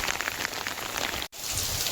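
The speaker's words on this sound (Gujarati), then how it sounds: "તો મિત્રો વરસાદ બહુ આવે છે હજી હાલમાં." Heavy rain pours down on a village, a dense, steady hiss of drops hitting surfaces close by, with a momentary dropout near the end before the downpour resumes.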